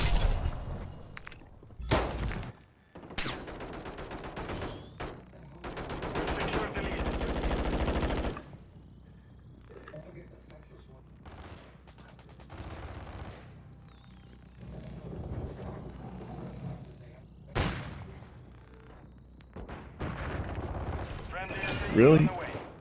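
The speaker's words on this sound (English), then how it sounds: "I'll just put the light machine gun to the end of the hall and mow their ass down" A light machine gun in a first-person shooter fires in several loud, sustained bursts separated by quieter gaps, with mechanical clatter and distant shots between them.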